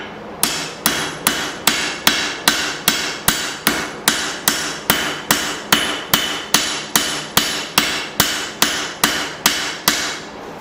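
Steel struck with a straight peen hammer while forging a Bowie knife rings out in about twenty-five sharp, evenly spaced blows, each ringing briefly, close and loud with no talking.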